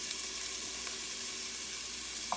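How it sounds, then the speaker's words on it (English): Chicken sizzles steadily in a pan for tortilla soup, a constant close hiss of frying with no voices over it. "So I'm not going to have to saute very long"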